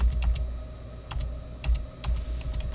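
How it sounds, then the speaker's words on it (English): Keys clack on a computer keyboard in short, uneven bursts of taps, close and clear, as a search number is typed in, with no speech. "we're going to just simply do a find function on our keyboard for 257"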